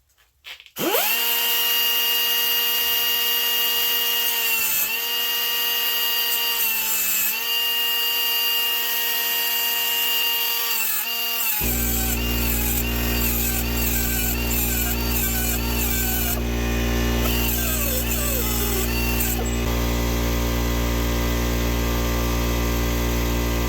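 A power tool starts up and grinds steadily, cutting long bolts down to length in a garage, a loud continuous whine that shifts into a harsher, rougher cutting tone midway, close with no talking.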